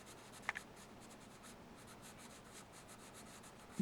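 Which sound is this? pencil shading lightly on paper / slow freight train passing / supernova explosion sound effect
pencil shading lightly on paper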